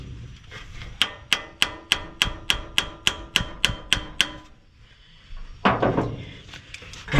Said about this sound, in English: And hammer this in a little.